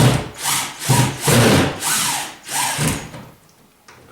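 A drill runs in short repeated bursts while screwing into a plastic surround sound speaker, whirring up and down about five times before trailing off into quiet near the end.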